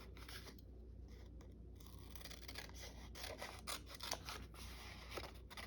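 Scissors trimming paper for a junk journal page, a series of close, crisp snipping and slicing strokes, several quick cuts in a row against a quiet background.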